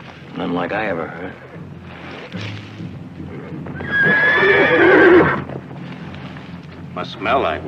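Horses whinny and neigh loudly nearby, a restless stallion among them, with stamping hooves and a long shrill neigh in the middle, in an American Western television series, mixed with other movement noise.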